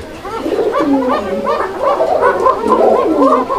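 Fancy pigeons coo in a close, continuous chorus of rolling, throaty warbles that overlap throughout.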